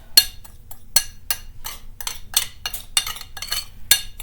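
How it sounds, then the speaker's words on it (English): Mushroom steak gravy is stirred in a pan, a utensil scraping and clinking against the metal in rapid, rhythmic strokes, close and clear with no talking. "I'll stir that up really good"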